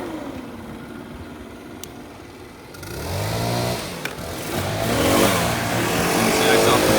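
A Stihl BR800C backpack leaf blower engine starts with a pull and rises into a loud, steady roar, joined by a second machine revving nearby, after a quiet opening.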